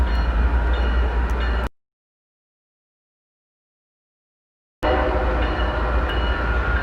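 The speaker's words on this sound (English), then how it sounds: "There's a train." Loud rail rumble from a passing train, cut by a few seconds of complete silence, then the same heavy rolling noise resumes.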